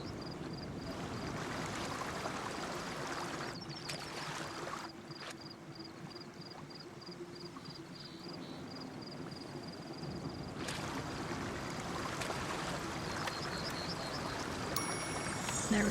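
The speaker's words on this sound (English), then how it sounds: "Got some river sounds." Steady broadband rush of river water flowing in the video game Dordogne, a continuous close wash with a faint tonal hum over it, no voices.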